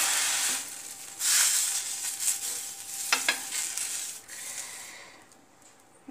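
Water sprinkled onto a hot iron tava for suji (rava) dosa sizzles in bursts of bright hiss, with a sharp flare near the middle, then fades to a faint simmer; no talking.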